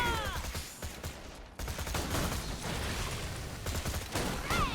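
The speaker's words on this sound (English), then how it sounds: "I think every bullet missed that time." Gunfire in Borderlands 2 crackles in quick bursts of shots mixed with game effects and brief voice sounds, fairly close and moderately loud.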